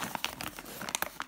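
Crinkling plastic bag of Lego leaves being handled, a quick run of crackly crinkles and rustles, close and fairly quiet.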